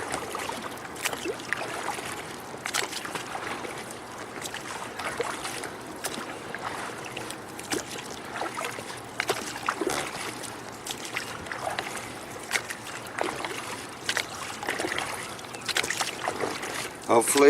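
A small boat is rowed at an easy pace on open water, oar strokes splashing and dripping in an irregular rhythm close by, with people talking intermittently over it.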